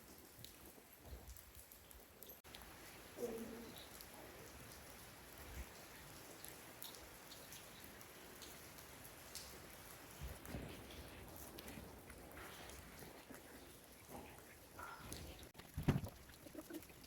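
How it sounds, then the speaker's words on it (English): Steady rain falling outdoors at an equestrian yard, a soft continuous hiss and patter of drops across the whole stretch, with a couple of brief knocks and bumps rising above it. "I'm afraid to say that rain's now come in."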